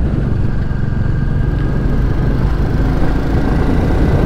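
Royal Enfield Classic 350 single-cylinder engine, about 20 horsepower, pulling in gear while riding without shifting, a continuous low rumbling drone heard up close with wind noise and no talking.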